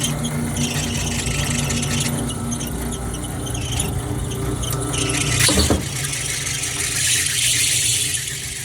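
A faulty freezer motor gives off a continuous high squeal over a steady mechanical hum, with a louder scraping rattle briefly in the middle before the squeal carries on.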